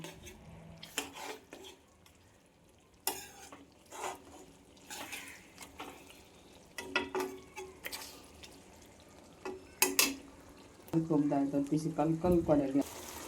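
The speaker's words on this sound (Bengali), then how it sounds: "মাংসগুলো মশলার সঙ্গে খুব ভালোভাবে নেড়ে চেড়ে কষিয়ে নিচ্ছি।" Pigeon meat is stirred and fried with spices in a pan, with scattered scraping clinks of a spoon against the metal and a sizzling burst near the end, spoken narration running over it.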